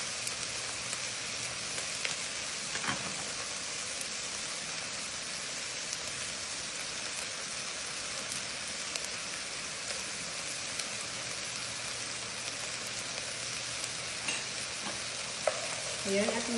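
Tomato paste being stirred into a frying pasta sauce with ginger, garlic and ground meat, a steady close sizzle running throughout with occasional scrapes of the spoon in the pan.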